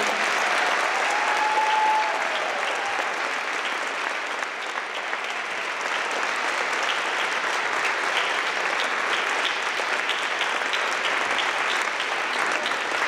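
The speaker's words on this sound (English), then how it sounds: "One more round of applause for everyone." Steady applause from a graduation ceremony audience for outstanding graduates, a dense, even wash of clapping that holds loud and unbroken from start to finish with no voices on top.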